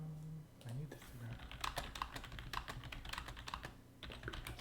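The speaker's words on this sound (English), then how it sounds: "Oh man, you can hear me typing." A computer keyboard clatters close by as someone types in quick, uneven bursts of clicks, with a voice talking low at the start.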